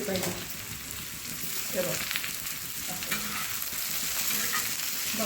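Masala spices for chicken kharda roasting and sizzling in a hot pan, a steady crackling fry with occasional stirring scrapes, close up, with a brief spoken word from a person partway through.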